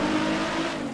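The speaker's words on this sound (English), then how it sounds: "I put the GTR R35 engine sound to make this thing pop for the stream today" Modded Nissan GTR R35 engine sound in GTA 5, a loud steady engine drone with a strong low hum, held for a brief second without talk.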